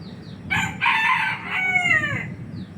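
A rooster crows once, fairly close and loud, its drawn-out call rising and falling over a faint background of light wind in a rural setting.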